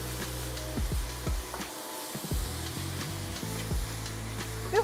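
Peeled, deveined raw shrimp hissing in a hot pan, with a steady sizzle running throughout and occasional scraping of a utensil against the pan as they are stirred.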